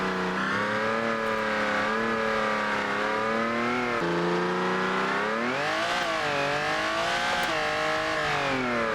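A loud, naturally aspirated big car engine revs up and down in smooth sweeps, rising and falling continuously and close by with no talk.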